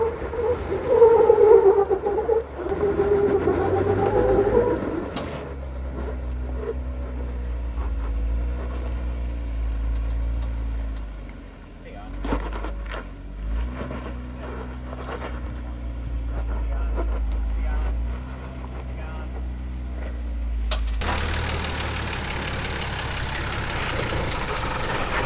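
A Nissan Patrol engine rumbles low and steady while crawling up big rock steps off-road, its revs rising and dipping with the climb amid occasional knocks and scrapes, lasting throughout.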